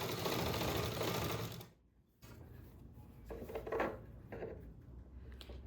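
A sewing machine stitching piping strip onto the neckline of a blouse, a loud rapid whirr that stops abruptly, then lighter clicks and fabric handling as the work is adjusted.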